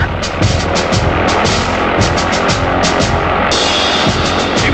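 Steady drone of a small plane's engine heard from inside the aircraft, loud and continuous with a rough low-end throb and faint rhythmic pulsing throughout, no voices over it.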